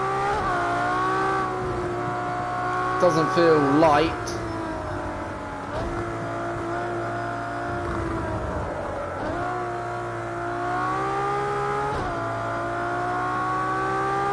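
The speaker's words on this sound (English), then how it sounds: "the car makes such a lovely noise in this game" A race car engine in a racing video game, lapping Brands Hatch, hums and climbs through revs with a steady, strong tone. A driver speaks over the engine throughout.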